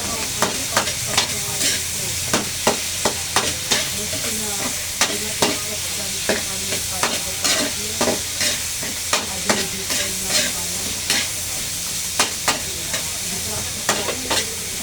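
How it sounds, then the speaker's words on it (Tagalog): Sautéed pechay being stirred in a hot pan: repeated sharp spatula scrapes and clacks in an irregular rhythm over a constant sizzle, close up, with no speech. "Halo-haloin lang natin guys."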